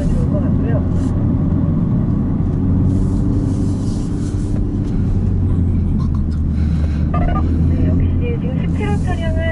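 MINI JCW Countryman lapping a race circuit, its engine a steady, loud drone running throughout while a person talks over it from inside the car.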